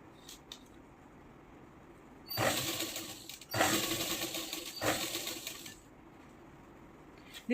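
A sewing machine stitches a sleeve in three bursts of steady mechanical whirring, each a second or so long with short pauses between, set against a quiet room and faint handling clicks.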